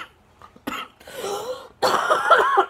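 A person coughs in two harsh, close bursts separated by a short pause, with no talking.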